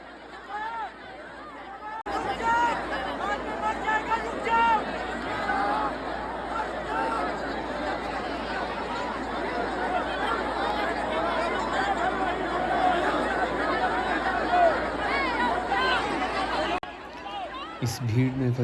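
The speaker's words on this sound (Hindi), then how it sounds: "इस भीड़ में फंसे हुए हमें 3 घंटे हो चुके थे" A huge crowd at the Mahakumbh churns with dense chatter, shouting and babble. It starts abruptly, stays loud and unbroken for most of the stretch, then cuts off sharply.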